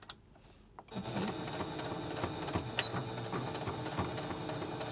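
A sewing machine back stitching a fold on a pleated fabric mask starts after a quiet second, then runs in a steady, close mechanical chatter with light rhythmic clicks to the end.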